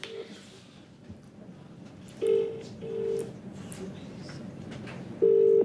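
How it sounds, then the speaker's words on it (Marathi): Phone call placed on speakerphone, with steady call tones in bursts over murmuring room noise and a live audience in the background. "फोन लावशील स्पीकरवर टाकायचा फोन आणि असा पकडायचा माईकवर"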